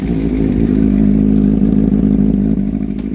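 A Suzuki Bandit 250 motorcycle engine idles loudly and close by, a steady chugging putter with a faint rattle and no talking.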